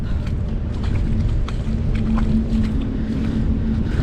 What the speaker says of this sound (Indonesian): di sini tuh anginnya kencang banget